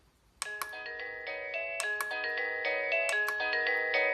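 A battery-free smart doorbell rings its melodic electronic chime repeatedly, starting after a brief pause and growing steadily louder, close and clear with no voices.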